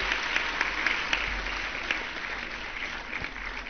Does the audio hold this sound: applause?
yes